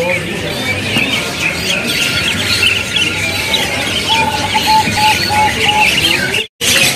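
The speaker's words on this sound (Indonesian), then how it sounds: "Kacer darah putih." A white-rumped kacer (magpie-robin) in a bird shop gives a run of short, clear repeated whistled notes over a busy background of other chirping birds and nearby talk.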